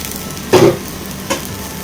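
Peanuts being pan-fried, a soft steady sizzle with two short scraping stir strokes, close and fairly loud, no voices.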